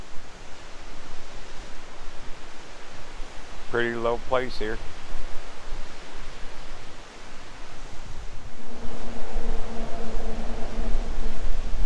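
A mountain stream runs low in a valley along Washington's Highway 20, its steady broadband rush continuous and close, with a brief spoken remark midway and a low hum joining near the end.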